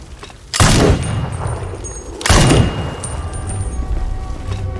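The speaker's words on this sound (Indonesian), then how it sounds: "mereka semua dikejutkan dengan tembakan yang dilakukan oleh sniper dari ISIS" Two sharp, loud gunshots from an ISIS sniper crack about two seconds apart, each followed by a brief echoing rumble, in a war film scene with a low background hum in between.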